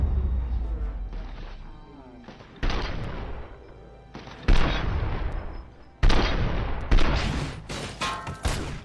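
Gunfire in Robocop: Rogue City, an Auto 9 pistol firing in sharp loud bursts and volleys separated by brief lulls, with crashing impacts mixed in.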